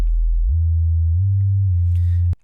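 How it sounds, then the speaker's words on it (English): A pure, low sine-wave tone from the Phase Plant synthesizer hums steadily, stepping up in pitch twice before cutting off abruptly. "So we start off with a sine wave"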